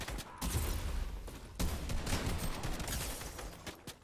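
Rapid bursts of gunfire in the video game Fortnite, a dense, loud barrage of shots running almost continuously with short gaps.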